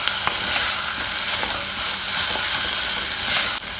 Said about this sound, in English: Now add in the tomato. Again stir this for about a minute.